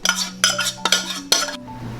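A pan of béarnaise sauce comes off the heat with several quick, close metallic scrapes and clinks of utensil against pan in short bursts, with no talk.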